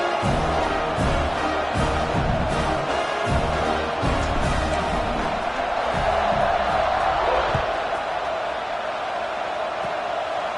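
A large stadium crowd at a UCLA vs. FSU football game roars steadily throughout, with a broad wash of cheering and scattered shouts and whoops rising now and then.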